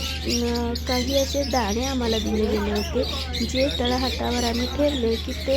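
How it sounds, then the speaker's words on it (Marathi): Parrots chirp and tweet while pecking grains from people's palms, the bird calls scattered beneath a person talking steadily throughout. "पक्ष्यांचा चिवचिवाट"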